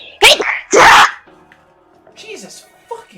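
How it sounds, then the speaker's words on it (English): Two loud sneezes in quick succession close to the mic, followed by quieter bird-like chirps and small noises. "gonna have a cute sneeze today"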